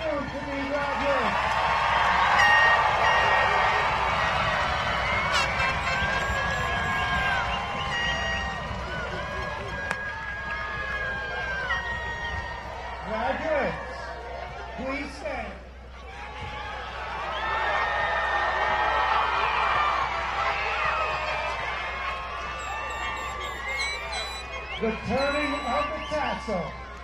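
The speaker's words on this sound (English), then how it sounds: "Let's get a round of applause for all of our soon-to-be graduates." A graduation audience for the Class of 2022 sends up a sustained wave of applause, cheers and whoops that dips briefly midway, then swells again before trailing off into scattered claps.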